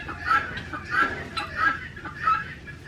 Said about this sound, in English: Man, them guineas are going at it.